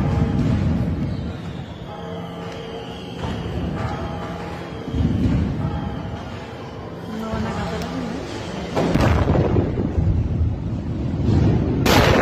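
Fireworks rockets go off at a parish in Querétaro, Mexico, with sharp, loud blasts erupting over continuous crowd commotion and raised voices.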